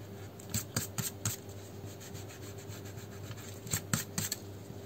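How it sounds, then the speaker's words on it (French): An eraser rubs pencil lines off paper in close, scratchy bursts: a cluster of quick strokes early on, a pause, then another group of strokes near the end. "Maintenant, je gomme tous mes traits"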